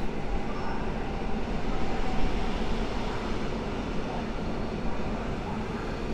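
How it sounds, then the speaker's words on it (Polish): A passenger train bound for Pilawa rolls past Warszawa Zachodnia station under construction, its steady rumbling rail noise filling the air evenly and fairly close, with strong wind blowing and no voices. "Przed nami pociąg do Pilawy."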